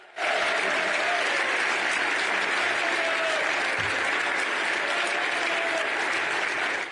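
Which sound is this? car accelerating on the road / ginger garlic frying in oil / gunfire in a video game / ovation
ovation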